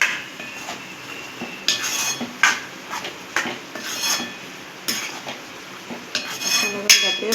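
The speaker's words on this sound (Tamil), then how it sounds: "இப்போ வந்து நம்ம அரைச்சி வச்சுருக்க இந்த தேங்காய் விழுதை வந்து இதில் சேர்த்துக்கலாம். சேர்த்துட்டு நல்லா கிளறிடுங்க." A metal spoon clatters and scrapes against a pan as coconut paste is stirred into snake gourd kootu, a series of irregular close knocks and rattles over a soft background with no speech.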